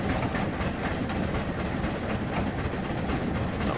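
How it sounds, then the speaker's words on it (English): Rail clatter from the coaches of a two-foot narrow-gauge steam train on the Bala Lake Railway route in Train Simulator Classic, a steady rumbling roll at low speed with no talk over it. "Rail clatter on the coaches could use with being a little bit louder."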